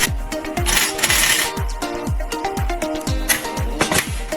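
A power screwdriver drives screws into a heavy-duty steel rack frame in repeated short bursts, each rising whine ending in a clunk, with metallic clatter between; close and loud, no talk.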